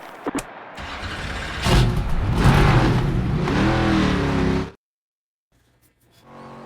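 Race car engine in the NASCAR 25 video game revving hard before a qualifying lap, a loud sustained roar with rising and falling pitch that cuts off abruptly, followed by near silence and a faint return of engine hum.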